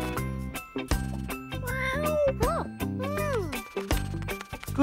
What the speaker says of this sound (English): It's Ginger Cat.